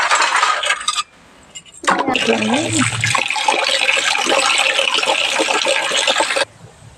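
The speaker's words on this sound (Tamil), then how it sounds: "ஃபஸ்ட்டு வந்து வாட்டரில் வந்து எல்லாத்தையும் ஃபஸ்ட்டு கழுவிடுவோம்" Water splashing and running as brass vessels are rinsed, with occasional clinks of metal against metal, close by and continuous.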